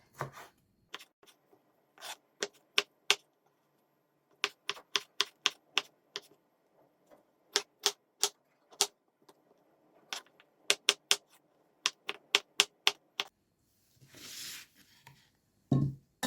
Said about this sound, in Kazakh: Ұсақтап турап аламыз 4 бұрыштығып.